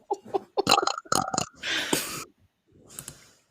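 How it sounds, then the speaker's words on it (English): Two people burping on cue, a loud drawn-out belch following a quick run of shorter vocal bursts, then a softer second burp after a brief pause. "We can both burp on cue."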